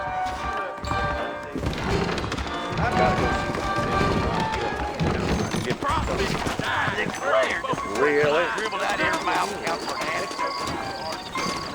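Horse hooves clip-clopping in Red Dead Redemption as saddled horses move out, irregular thudding steps with snorts and movement around them, while characters speak over the action.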